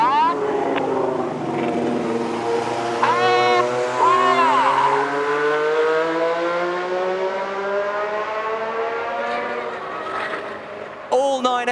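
Red Arrows jets in formation at an air show sweep overhead in a Diamond Roll, a loud rising and falling roar with sliding Doppler whine that builds and fades, while a commentator talks over it.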